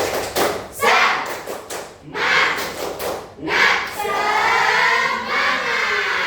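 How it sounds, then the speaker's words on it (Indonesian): Schoolchildren in an Indonesian classroom perform a rhythmic spirit clap, with bursts of clapping and thumps in a patterned beat, some voices chanting along, followed by a longer continuous stretch of clapping at the end. "Sekali lagi, tepuk semangat."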